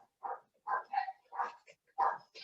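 A dog barks several times in a short, irregular run of clear yaps and woofs, close and fairly loud against a quiet background.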